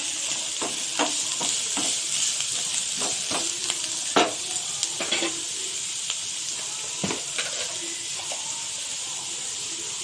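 Sandwich filling fries in a pan with a steady sizzle, broken by repeated scraping knocks of a utensil stirring it, close and fairly quiet.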